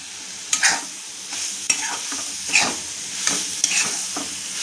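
Grated coconut and milk powder sautéing in ghee, a constant close sizzle with periodic scraping stirs of a spoon through the thick mixture, no voices.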